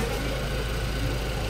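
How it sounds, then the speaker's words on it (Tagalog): A Mitsubishi Lancer with a 4G92 engine, a car suffering black smoke and heavy misfiring, idles with a low steady rumble and faint vibration, close and unbroken, with no voices. "normal na andar na makina"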